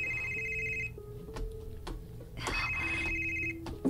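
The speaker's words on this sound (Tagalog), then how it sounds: "Ang iyong cellphone ni Pagting" A cellphone rings with a bright electronic tone in two bursts separated by a pause, close and fairly loud over a murmuring background.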